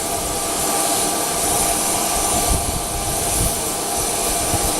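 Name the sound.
jet aircraft engine at an airport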